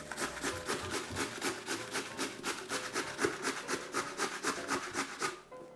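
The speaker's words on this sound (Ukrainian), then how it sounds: "Навіть зараз, коли я натираю" Potatoes are grated by hand in quick, steady rasping strokes, about four or five per second, close and continuous, with no talking.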